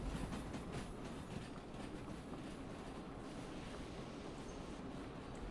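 Steam locomotive in Derail Valley hauling a long, heavy string of gondolas, a steady rumbling roll with rhythmic clickety-clack of wheels over rail joints, fairly loud and continuous.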